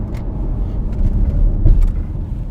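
2019 BMW X4 G02 being driven on a track, a steady close engine and road rumble inside the car with brief faint knocks, no talk.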